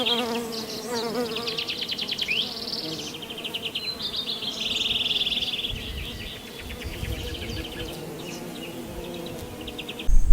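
Trigona stingless bees at a bee farm in Batu Marta hum in a steady, fairly loud buzzing swarm, with overlapping wingbeat drones rising and falling close by and faint bird chirps in the background.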